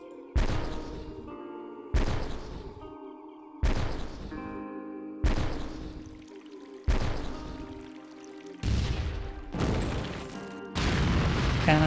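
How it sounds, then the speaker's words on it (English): Artillery bombardment in the strategy game Call to Power 2: a series of about seven heavy, booming blasts, one every second and a half or so, each with a long rumbling tail that overlaps the next. "let's bombard and go straight in and see if we can break it right away."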